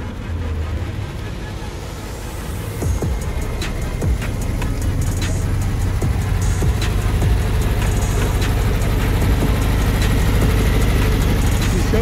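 A lowered Volkswagen Beetle (Fusca) arrives at a lowered-car event, its air-cooled engine rumbling low and growing louder as it draws near, while voices talk over it.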